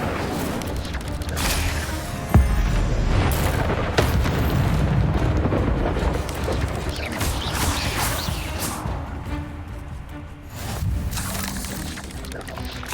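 A fire spell, Incendio, cast in the video game Hogwarts Legacy: a loud, continuous roaring blast of flame with sharp crackling bursts, sustained throughout with some faint voices in the mix.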